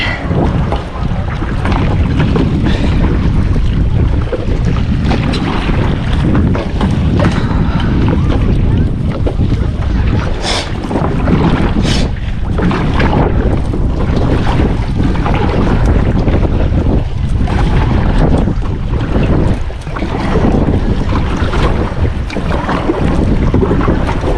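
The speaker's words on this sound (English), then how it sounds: "Windy." Strong wind buffets the microphone in loud, continuous roaring gusts, with water sounds faintly underneath, on a lakeshore in Olympic National Park.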